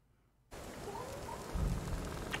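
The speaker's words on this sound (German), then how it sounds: "Ach nee, es regnet." Steady rain falls in the video game Arise: A Simple Story, a soft, continuous wash of drops that begins abruptly and builds slightly, with a low rumble swelling near the end and no voices.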